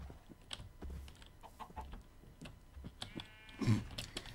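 Video game chicken clucks in short bursts, with a louder squawk near the end, over a soft game backdrop.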